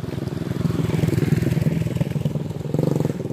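A motorcycle rides past close by, its engine drone steady and loud for a few seconds with a slight rise near the end, heard outdoors during a hot-weather jog.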